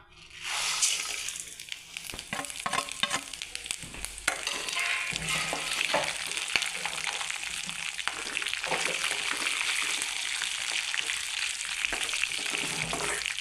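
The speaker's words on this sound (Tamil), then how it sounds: "சோம்பு சீரகம் முந்திரி பட்டை லவங்கம் மிளகு இது எல்லாமே எண்ணெயில் போட்டு ஃப்ரை பண்ணிக்கலாங்க" Fennel, cumin, cashews, cinnamon, cloves and pepper fry in oil in a kadai, a dense continuous sizzle close by with scattered stirring clicks and scrapes throughout.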